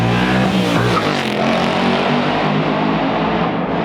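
A 2024 Ford Mustang GT S650 with a 6-speed manual revs hard nearby, a loud, continuous engine roar that holds steady before cutting off abruptly at the end.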